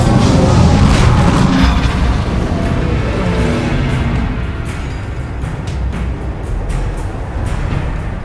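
Bombarda blasting spell exploding in the Hogwarts Legacy video game, a loud low boom at the start that rolls off into a long rumbling decay with scattered debris crackle.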